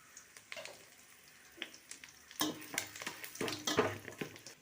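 Store-bought biryani spice mix frying in oil in a pan for vegetable biryani: soft sizzling with scattered scrapes and stirring clinks, quiet and close, growing busier in the second half, no voices.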